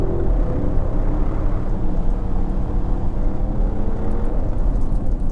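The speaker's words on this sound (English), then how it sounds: "So let's see what this car is like accelerating." A 2022 Audi RS6 accelerating, heard as a loud, steady low engine rumble and road roar that builds continuously without a break, close to the microphone, with no talking.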